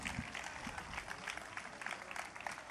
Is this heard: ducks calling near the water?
no